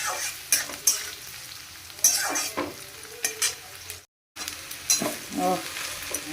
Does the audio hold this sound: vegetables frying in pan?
yes